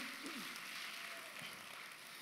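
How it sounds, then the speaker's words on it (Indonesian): A church congregation claps in steady, fairly faint applause during a worship service, with a faint voice briefly audible. "Tepuk tangannya boleh yang paling meriah buat Tuhan kita."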